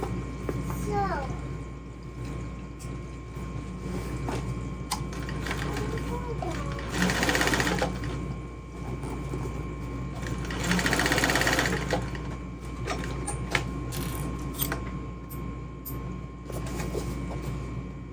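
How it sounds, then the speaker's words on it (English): A 1341 sewing machine stitches a bag together in the round, its close steady motor whir and needle chatter running the whole time while a person talks over it. "and then we'll sew it all together."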